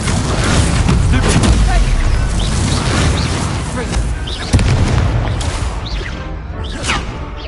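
An Expelliarmus spell fired during a duel in the Hogwarts Legacy video game bursts out as booming, whooshing magical blasts with a sharp impact midway, set against a loud rumbling background and game voices.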